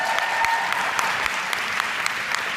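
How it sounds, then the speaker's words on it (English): A seminar audience at a speaking event in Manchester claps in a steady, dense round of applause, sustained and fairly close for a few seconds. "give her a round of applause"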